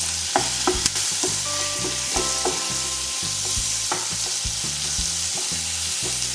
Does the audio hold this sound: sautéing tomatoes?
yes